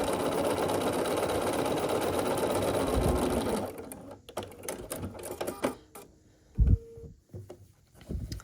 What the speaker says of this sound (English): we're just going to sew here down this side with a 1/4 inch seam